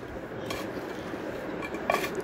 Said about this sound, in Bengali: এবার মশলার সাথে মাংসটা ভালো করে মাখিয়ে নিচ্ছি।